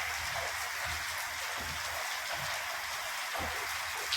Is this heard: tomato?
no